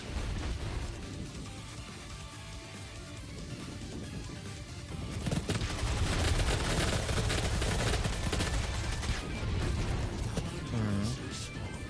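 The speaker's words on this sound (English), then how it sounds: "I just like the chain gun, man." Chain gun fire in DOOM 2016 multiplayer, a dense run of rapid gunfire and explosions that swells louder after the first few seconds and continues steadily, with game action noise throughout.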